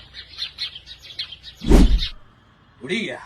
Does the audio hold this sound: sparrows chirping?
yes